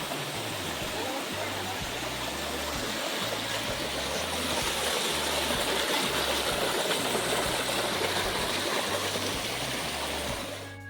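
Water rushing along a small stream, a steady broadband wash that stays loud and continuous throughout, with a low rhythmic rumble underneath.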